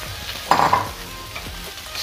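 A spoon stirs puffed rice (borugulu) into fried onions in a pan for Rayalaseema-style uggani, giving a soft scraping rustle with a brief louder scrape near the middle over a faint background sizzle.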